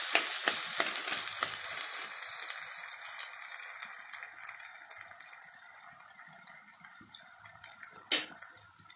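Sliced onion frying in a pan for a brinjal tomato curry, a steady soft sizzle with light stirring rattles that gradually quietens, then one sharper clatter near the end; no voices.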